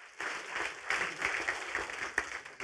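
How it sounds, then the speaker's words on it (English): A church congregation claps in praise, a dense and steady roar of many hands lasting a few seconds, heard from across the room with no voices over it. "Let's give the Lord a hand clap of praise"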